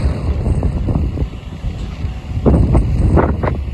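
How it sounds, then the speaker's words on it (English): Strong gusty wind on a gloomy day in Melbourne, buffeting the microphone with rumbling bursts that swell and ease, loud and close, with no voices. "Very strange and windy day today."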